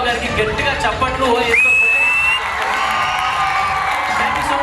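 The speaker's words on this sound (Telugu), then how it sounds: "గట్టిగా చప్పట్లు" Audience at a Ugadi cultural stage event cheering and clapping after a song performance, a loud mixed crowd roar with whoops and a shrill whistle, voices talking over it.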